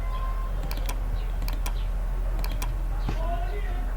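Keys tapped on a computer keyboard while laying out a map legend in QGIS, a few sharp clicks in small bursts under steady background hum, with a voice speaking quietly at times.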